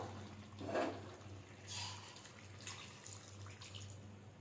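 Hot water is poured into a pot of chicken curry with fried potatoes, a soft splashing pour that swells near the start and again midway, over a steady low kitchen hum.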